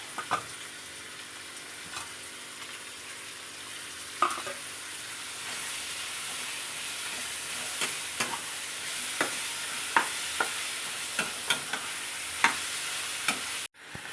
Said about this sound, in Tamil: வெங்காயம் நல்லா வதங்கி வச்சு அதை வதங்கிட்டு இருக்கும் போது தக்காளியை எடுத்து போட்டு நல்லா அதையும் சேர்த்து வதக்கணும்